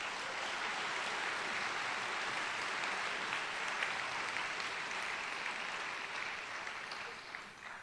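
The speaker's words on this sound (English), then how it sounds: "A big round of applause to them." An audience at a swearing-in ceremony gives educators sustained, dense applause that stays steady for several seconds before tapering slightly at the end.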